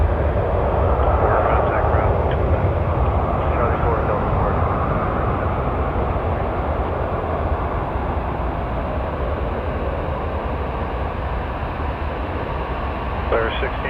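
An airplane's engines roar steadily at Toronto Pearson Airport, a loud continuous broadband rumble while radio chatter plays over it.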